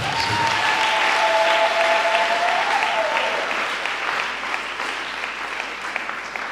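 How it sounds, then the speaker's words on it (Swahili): A church congregation claps together during a worship service, a dense, loud, sustained round of applause that gradually eases, with a brief tonal whine in the background early on. "Pigia tena Bwana Yesu makofi"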